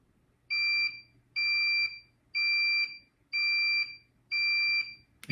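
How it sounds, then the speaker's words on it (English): A Pharmacia Biotech EPS 3500XL high-voltage electrophoresis power supply beeps its load-check alarm in five evenly spaced, shrill electronic beeps about a second apart, each roughly half a second long, close by with no talk. "the reason why I had the beeping is because I had the load check enabled before"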